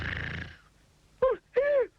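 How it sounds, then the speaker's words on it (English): A sleeping tramp snoring in an autumn field, two distinct drawn-out rasping snores with a pause between, heard close and alone after a brief fade of other sound. "The tramp, fast asleep, snored."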